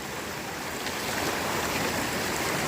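Water rushing and splashing in a cold stream on an Appalachian Trail section in Connecticut as a hiker wades across, a steady broadband wash close by with no talk.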